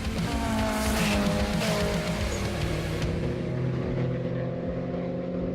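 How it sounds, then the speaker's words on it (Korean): A loud, revving tuned drag racing car engine roars on a 400 m straight, rising and falling in pitch with several sharp gear-change surges, then settles into a steady growl. "엔진 소리"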